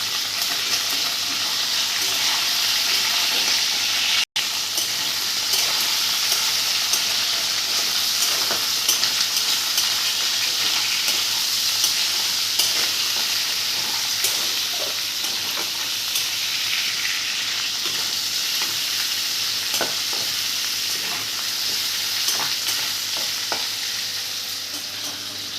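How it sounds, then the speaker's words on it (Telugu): Prawns frying in a pan for a prawn curry, a continuous close sizzle and hiss with occasional clicks of stirring, loud and steady throughout with no voices. "పచ్చి వాసన పోయే వరకు రొయ్యలను అయితే వేయించుకోవాలి."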